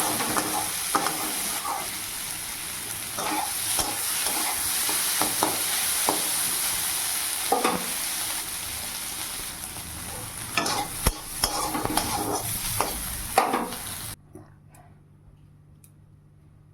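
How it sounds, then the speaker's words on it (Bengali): Soybeans frying in oil in a kadai with salt, turmeric and asafoetida, a continuous close sizzle broken by scattered clicks and scrapes of stirring, cutting off abruptly near the end. "সেই কড়াইতেই এই যে সয়াবিনটা একটু লবণ হলুদ আর হিং দিয়ে ভেজে নেব"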